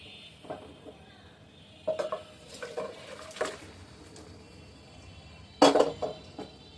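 Cooked meat curry being poured out of a pot once the stove is off, with scattered clinks and scrapes of metal utensils and a louder clatter near the end, no voices.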